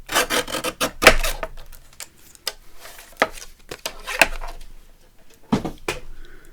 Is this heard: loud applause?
no